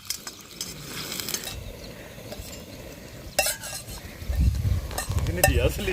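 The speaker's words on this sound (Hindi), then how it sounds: "लो जी, चलेगी वेजिटेबल्स तेल में" Vegetables frying in oil for chowmein at a campsite crackle and sizzle up close, broken by stirring strokes and a few metallic clanks of utensil against pan.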